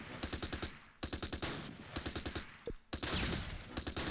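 Panzerjäger gunfire in the Close Combat Arnhem wartime game: several short bursts of rapid, sharp automatic shots in a steady rhythm, with brief pauses between bursts and one lower thud.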